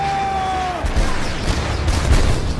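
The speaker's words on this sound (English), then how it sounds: "Blasted by the cannons, the Kraken drew back." Ship's cannons fire at a sea monster in a pirate audio drama, a burst of rough, booming blasts and crashing noise that follows a fading tone, loud and dense with no clear speech.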